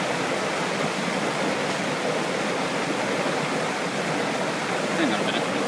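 Pistyll Rhaeadr waterfall in North Wales roars as a dense, constant wash of falling water, loud and close, with no break across the stretch.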